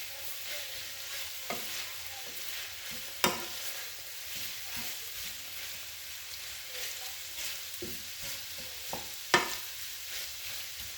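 Onions and garlic frying in a pan, a low steady sizzle with occasional utensil scrapes and two sharper knocks, heard up close and without any speech.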